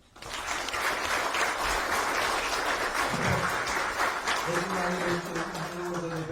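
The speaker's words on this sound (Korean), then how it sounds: "뜨거운 박수" Warm applause from an audience after a political speech, dense steady clapping that fills the room for several seconds, with a few voices rising near the end.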